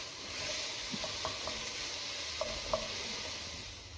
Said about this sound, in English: I'll touch more oil to the pan, and add my veg. I'm just going to fry these until softened